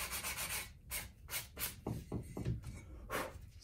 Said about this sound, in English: So I'm just gonna take the sandpaper,